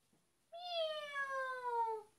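A cat in a children's cartoon gives one long, clear, drawn-out meow that falls slowly in pitch, close and prominent against a quiet background.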